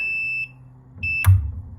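A beer brewing controller sounds its alarm: a steady high electronic beep that cuts off, then resumes after a brief gap, followed by a sharp click and low thump from the unit.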